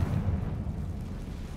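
A Confringo fire spell explodes in Hogwarts Legacy, a deep, rumbling blast that swells at once and rolls on steadily for over a second, heavy in the low end with no voices over it.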